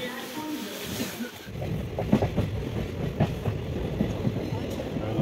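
A train rolls along rails during a tour in Sikkim, a soft rumble that swells into rhythmic clickety-clack beats of wheels on track joints, heard from nearby.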